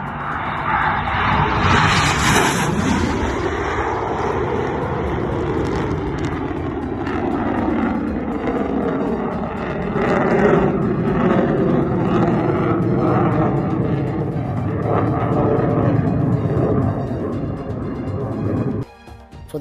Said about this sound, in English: Low altitude on Ukrainian MiG-29.